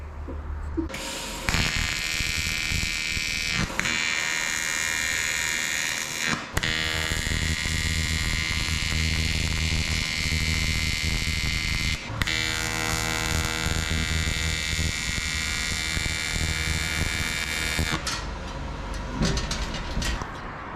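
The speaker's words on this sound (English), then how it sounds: "tack both sides together, and then see if I can run a bead and make this 2 pieces of aluminium one" Two pieces of aluminium are welded together with a loud, steady electric buzz that runs in long stretches, cut by a few brief pauses as each bead stops and restarts.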